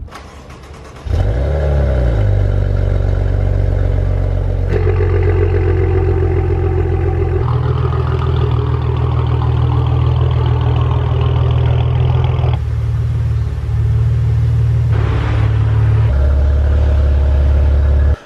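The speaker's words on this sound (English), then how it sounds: "hopefully it starts up and we can back this thing inside the shop" A 2015 Maserati Ghibli SQ4, wrecked and awaiting rebuild, starts with a cranking burst and catches into a deep, steady idle. The idle rumbles close by with a few light rises in revs, and no one speaks over it.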